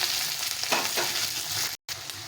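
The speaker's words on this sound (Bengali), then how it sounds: "পেঁয়াজটা ভেজে দেবো ভালো করে, লাল লাল করে ভেজে নিতে হবে" Onion frying in a pan, sizzling steadily with a few stirring scrapes, close and loud, broken by a brief silent gap near the end.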